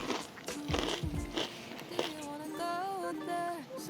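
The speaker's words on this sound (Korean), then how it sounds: "바삭바삭한 소리가 장난이 아닌데" Crunchy bites into crispy fried meat dipped in sauce make a few loud crackling crunches up close. A voice follows under a steady room background.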